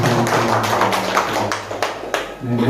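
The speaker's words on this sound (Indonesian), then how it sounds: "Tepuk tangan untuk ibu-ibu kita" A school audience at a teachers' meeting claps for the teachers: a short burst of fairly loud, close, uneven hand claps that fade toward the end.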